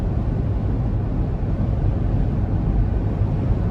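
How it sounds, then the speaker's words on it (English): Inside a 2021 Toyota 4Runner Limited on the move, a steady broadband rush of wind and road noise holds at an even level, with no voices. "one thing I like about the wind noise is it's there, but it's really controlled. It doesn't get louder or softer. It's just pretty steady"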